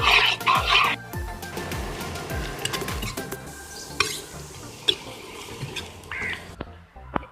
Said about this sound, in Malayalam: ഇനി നമുക്ക് നല്ലോണം ഒന്ന് ഇളക്കി കൊടുക്കാം